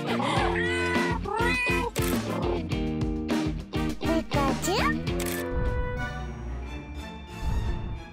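Several cats meow in a row, with rising and falling cries over a busy background that sounds like music and voices, in a home where a Christmas tree is being decorated.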